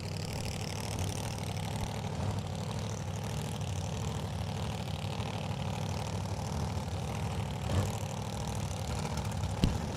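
A supercharged Hemi in a 1933 Bantam drag car idles in the staging lanes at a drag strip, a steady low rumbling drone with a slight swell near the end.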